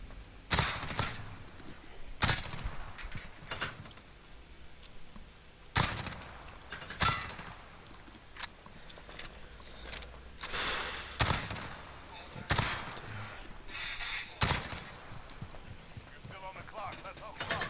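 MP5 gunfire at targets in a Call of Duty Modern Warfare remastered gun course: irregular bursts and single sharp shots spread across the stretch, with quieter clattering and mechanical handling sounds between them.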